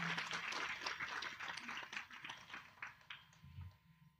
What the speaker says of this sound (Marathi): एकदा जोरदार त्यांच्यासाठी टाळ्या झाल्या पाहिजेत